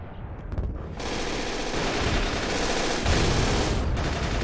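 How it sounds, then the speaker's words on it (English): Rapid autocannon fire in Men of War: Assault Squad on the Stalingrad front in 1943, a loud, dense, continuous hammering that starts after a brief lead-in and holds steady and close to the end. "It looks like that autocannon just destroyed whomever was over there."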